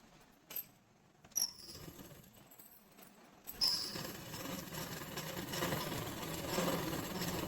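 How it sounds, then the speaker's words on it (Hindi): A sewing machine runs steadily along the edges of a night dress after a few soft knocks, its quiet, continuous mechanical whirr filling the second half of the clip. "अब मैं इसके किनारे किनारे सिलाई लगा लेती हूँ।"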